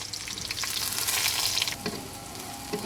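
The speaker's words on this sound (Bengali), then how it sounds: "পেঁয়াজ কাঁচামরিচ খুবই ভালোভাবে ভেজে নিচ্ছি" Onions and green chilies frying in hot mustard oil on a raised flame, a loud continuous hissing sizzle with brief stirring scrapes near the end.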